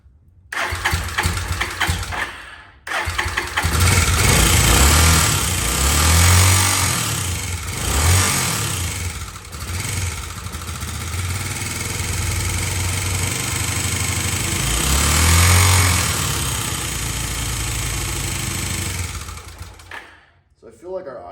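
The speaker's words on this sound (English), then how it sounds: "So I feel like our idle is set too low." A long-abandoned, revived motorcycle engine with its idle set too low starts after a short silence, swells through several loud revs, settles into a rough idle, then cuts off near the end while a person talks.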